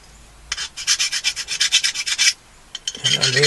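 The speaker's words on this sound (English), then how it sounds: "file these burrs off of here" A hand file rasps back and forth over a metal camera mount part to remove burrs, about a dozen quick rhythmic strokes up close, then a short pause and a few more strokes.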